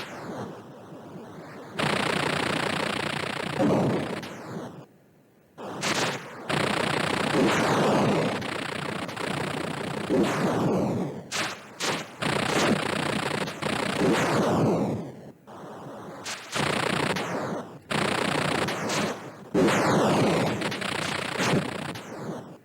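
Machine gun fire from the Atari 2600 game Radar Lock: long, harsh noisy bursts of synthesized rapid fire, repeated many times with brief silent gaps, loud and steady without any voices over it.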